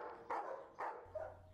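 A tan dog gives three short barks in quick succession, fairly faint and isolated, with a low hum underneath toward the end.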